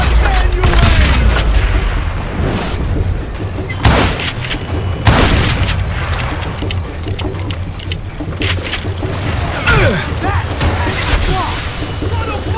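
Heavy booms from thrown dynamite in the 2013 western shooter Call of Juarez: Gunslinger, with several sharp blasts standing out over a dense, continuous backdrop of rapid gunfire and crashing game effects.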